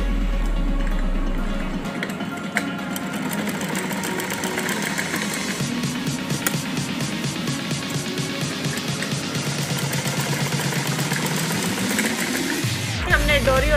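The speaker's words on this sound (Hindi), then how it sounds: "यहाँ हम सिलाई लगाएंगे।" A sewing machine stitching folded cloth while making a dori, a steady, close mechanical whirr with a fast rapid ticking that runs for most of the stretch, then cuts off near the end.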